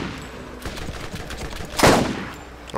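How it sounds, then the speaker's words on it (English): Gunfire from the Borderlands video game: a run of quick, faint shots followed by one loud, sharp blast near the end, with no talking. "So I wanted to see if shooting this will make it explode."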